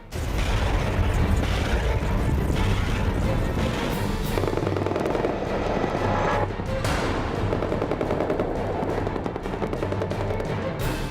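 Dense helicopter roar with rapid gunfire crackling and thudding throughout, loud and continuous, suggesting heavy aircraft and weapons nearby.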